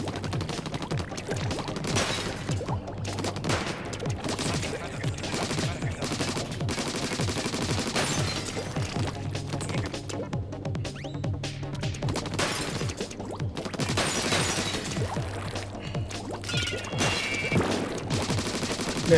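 Dense game combat from Splatoon 2 Octo Expansion, with rapid bursting pops and ink-bomb explosions layered over continuous background music, busy and loud throughout with no pauses.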